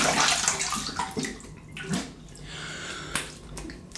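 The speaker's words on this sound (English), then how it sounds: "Right, let me have a little rinse here." Running water rinses a razor during a wet shave, with splashes and swishes under a tap, close by and uneven, with a few brief knocks and drips.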